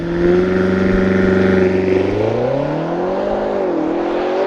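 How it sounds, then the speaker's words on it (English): A 2021 BMW X6M Competition with a twin-turbo 4.4-liter V8 launching under launch control, loud engine roar climbing steadily in pitch through the gears for several seconds with no talk. "'21 BMW X6M Competition with launch control. Okay, yeah, that's pretty quick."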